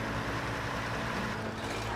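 A loud, steady engine drone with a low rumble, running continuously without any change in pitch.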